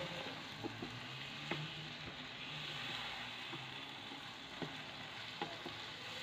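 Tender young pea pods fry and are stirred in a pan: a steady close sizzle runs throughout, broken by occasional sharp clicks of the spoon against the pan.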